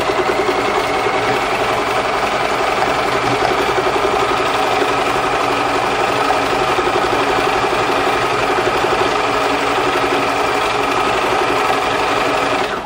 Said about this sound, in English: I've got a load of wadding here and here, and I want to stitch it